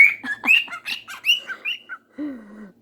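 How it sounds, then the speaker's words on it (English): Pet cockatiel calling loudly and close by, a rapid run of sharp whistled chirps and squawks followed by a longer, lower sliding call. "He's trying to call out to another cockatiel we have out there"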